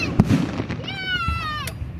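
Fireworks being shot off outdoors in Ohio: a couple of booming cracks followed by a rising whistle, heard over a low rumble and chatter nearby.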